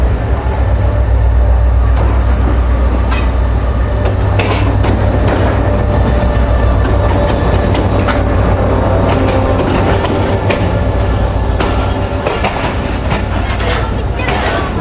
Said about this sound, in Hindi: HMU 38221 के साथ ट्रेन फाइनली पहुंच चुकी है भाई 4 घंटे लेट